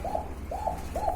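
Racing pigeons coo in three soft, evenly spaced rolling calls, close and clear over a low background hum.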